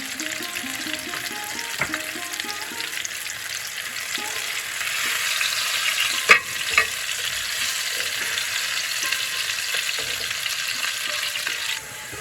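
Potatoes frying in a pan, a steady close sizzle with scraping stirring strokes and occasional clinks of a utensil, continuous and heard alone.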